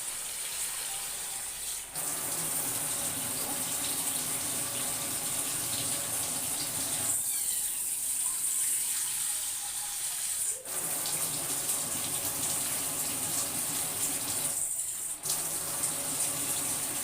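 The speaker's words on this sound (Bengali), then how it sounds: "এবার আমি এখানে পরিমাণ মতো জল দিয়ে দেবো।" Water pours steadily into a cooking pan holding fried turnip and potato, a continuous rushing splash with a few brief breaks, close and moderately loud with no talk.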